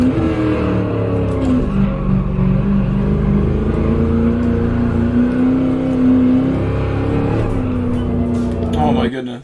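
A race car engine in Gran Turismo 7 drones loudly and steadily at high revs, its pitch shifting slightly as it holds speed, with a voice talking over it.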